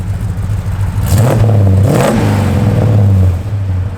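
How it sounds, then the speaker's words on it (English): A 1969 Plymouth GTX engine revs up hard, climbing to a loud roar and falling back twice before settling into a steady idle, close by. "Give it a little rev, Dale."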